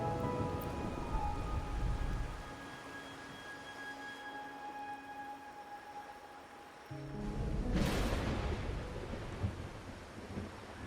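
Steady rain hisses alongside low rumbling thunder in a video game, with a loud roll of thunder swelling midway before fading back to rainfall and faint music.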